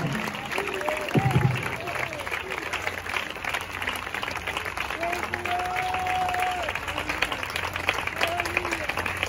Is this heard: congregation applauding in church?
yes